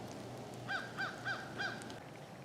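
Crows cawing outdoors in a garden at dusk: four evenly spaced caws in quick succession, faint and distant over a low background hum.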